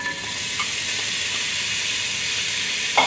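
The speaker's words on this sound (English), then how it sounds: "Some vegetable cooking oil. And we're gonna add in chopped onion." Chopped onion sizzles in hot vegetable cooking oil for Asian-style seafood chowder, giving a steady, close hiss with a couple of faint clicks and a small bump at the end.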